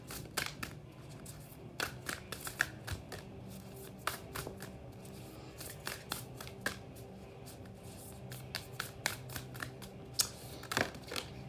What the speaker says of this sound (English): Me talking while I'm shuffling.